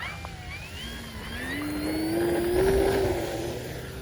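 An E-flite Super Timber 1.7m electric RC plane takes off, its motor whine rising steadily in pitch and loudness as it climbs away, heard clearly with no speech.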